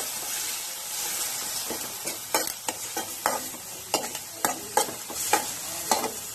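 Chopped tomatoes and curry leaves sautéing in a hot pan, a continuous close sizzle broken by repeated sharp clacks of a spatula scraping and stirring at an uneven rhythm.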